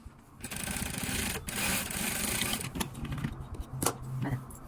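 A sewing machine stitches fabric in a steady whirring run that pauses and restarts, heard close up with a few clicks and handling noises between bursts.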